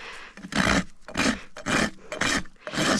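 A rasp strokes across a horse's trimmed hoof in five even back-and-forth scrapes, each a loud, gritty rub with short pauses between, heard close up without talk.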